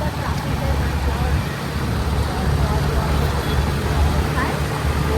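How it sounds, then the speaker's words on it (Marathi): Dense road traffic on a congested route toward Bandra, with a steady low rumble of car and bus engines and a constant roadway drone, close and continuous, with faint background voices in the mix. "आम्ही आता बघा ट्रॅफिकमध्ये आहोत"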